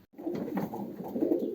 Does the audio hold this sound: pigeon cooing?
yes